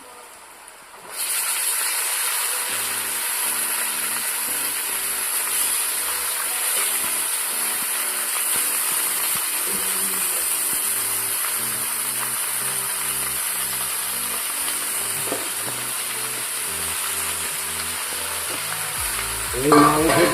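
Marinated chicken meets hot frying onions in a pan, setting off a steady, close sizzle and hiss that holds for the whole stretch, with faint clinks of stirring and a brief louder burst at the end.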